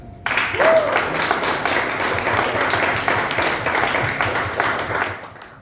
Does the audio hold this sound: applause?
yes